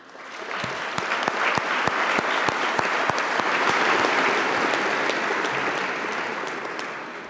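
An audience at the Fondation Lefoulon-Delalande scientific prize ceremony applauds an honoured professor, with full, sustained clapping swelling quickly and holding steady, a few sharp individual claps standing out before it slowly tapers.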